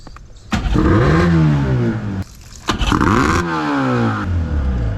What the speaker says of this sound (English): I'm gonna throttle up.